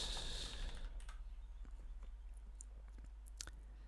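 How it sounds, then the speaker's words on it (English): Quick, light keystrokes on a computer keyboard as a product search is typed, a soft steady patter of clicks behind a faint background hum. "Let's type that again."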